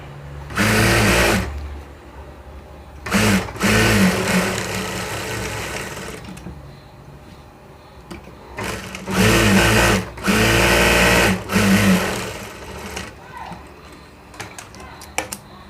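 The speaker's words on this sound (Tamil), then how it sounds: "டபுள் தையல் போட்டுங்க." A sewing machine double-stitches a gathering band, running in several loud, close bursts of rapid stitching separated by short pauses.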